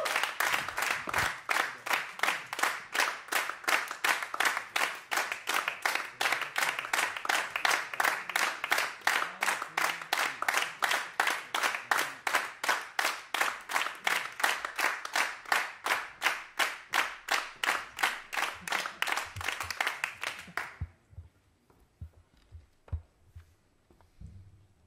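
An audience at a jazz concert claps in steady, unison rhythmic applause for about twenty seconds, then it breaks off into a few scattered claps and quiet room sound.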